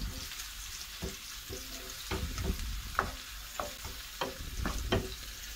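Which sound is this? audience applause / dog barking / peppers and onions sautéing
peppers and onions sautéing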